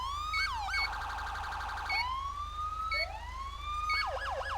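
A police siren in a roleplay video game cycles through rising wails, quick yelps and rapid warbling tones, loud and continuous over a low steady hum, with no talking.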